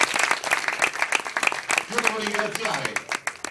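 Audience applause at a cyclocross presentation event, a steady patter of clapping running through the clip under someone speaking over it.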